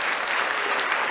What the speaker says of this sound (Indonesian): Tepuk tangan dulu biar seru.